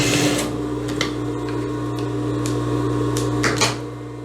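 A sewing machine stitches the V neckline of a lace blouse, a steady motor hum with short bursts of stitching and clicks near the start and end.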